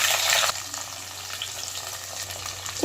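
Steady frying sizzle of shallots and garlic in hot oil, a louder burst at the start as they hit the pan, then a continuous crackle close by.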